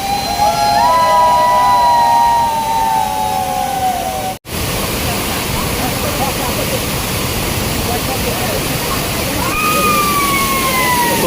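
Steady, loud rush of a waterfall fills the whole recording, with people talking over it near the start and again near the end.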